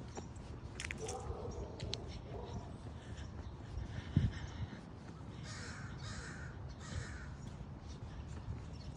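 Crows caw repeatedly outdoors in a green spot, calls scattered near and far over a low, rustling background, with one brief thump partway through and no talking.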